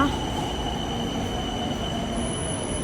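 A Thai electric train carriage being boarded: steady loud rumble of rail noise with a high squeal of wheels and constant electrical hum, close and continuous.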